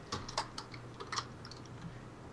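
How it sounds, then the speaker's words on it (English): Computer keyboard typing, quiet and close, a few scattered key taps in short groups that thin out toward the end, with no voices. "What are you typing?"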